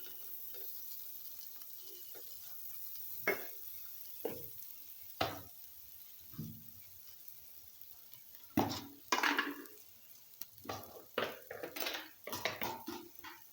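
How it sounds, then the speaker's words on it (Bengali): A spoon stirs chili powder into cooking mung dal in a metal pot, making quiet, irregular scrapes and clinks against the pot, with soft sizzling between the strokes. "মরিচের গুঁড়া 1 টেবিল চামচ দিয়ে এটাকে ভালো করে নাড়তে থাকবো"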